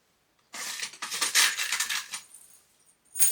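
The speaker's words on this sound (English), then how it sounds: "Now I'll put our zipper pulls on, so we want two black and two silver maybe." Small metal zipper pulls are handled and sorted for clear sewn pouches, giving a run of light metallic clinks and jingles up close for about two seconds, then a pause and a brief final clink.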